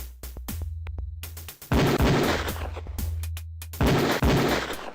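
Shooting-range gunfire during a qualification in the video game Police Quest 4: quick loud shots in rapid bursts with short gaps, over a low steady background hum.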